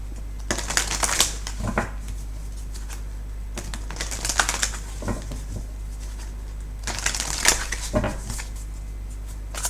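Tarot cards shuffled in three loud, rustling bursts of riffling and sliding, separated by quieter handling and card taps, close up with no talking.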